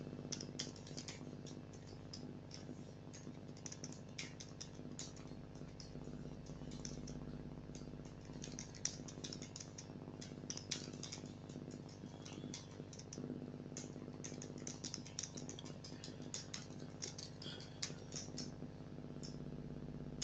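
Steady computer keyboard typing as a database query is entered, with dense, continuous key clicks at close range filling the whole stretch and no speech.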